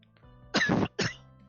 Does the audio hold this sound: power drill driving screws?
no